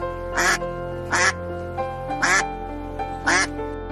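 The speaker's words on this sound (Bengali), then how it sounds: "রাজহাঁস।" A goose gives four loud, evenly spaced honking calls close by, with short pauses between them and a low steady background hum.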